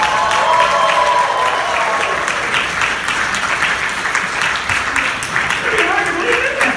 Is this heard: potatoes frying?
no